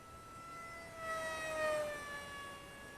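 A radio-controlled model airplane fitted with a Radiolink Byme-A flight controller and gyro whines faintly in flight, its motor pitch swelling and fading as it passes at a distance.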